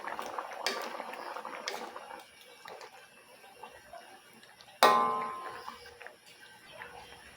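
Squash, string beans and malunggay simmering in coconut milk for ginataang kalabasa: a soft, steady bubbling close by, with a sharper knock or clink partway through and a few lighter ticks. No one speaks.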